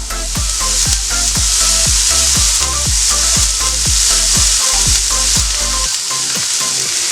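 Moringa drumstick pods fry in hot coconut oil, giving a loud, steady sizzle throughout, with regular ticking pops and spatters over a low constant hum.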